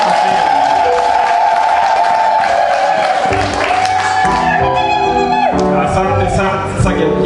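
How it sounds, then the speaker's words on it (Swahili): Congregation at a Swahili church service cheering and ululating, a loud sustained crowd roar with high warbling trills that swells and continues throughout, with voices mixed in. "Naomba tuwapokee tena kwa mashangilio na nderemo"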